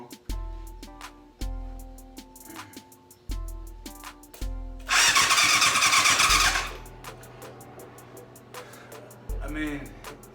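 A 1988 Yamaha FZ750 motorcycle engine being started after a rebuild, with repeated starter cranking bursts, then a loud roaring catch lasting a couple of seconds before dying, followed by more cranking, up close with speech around it.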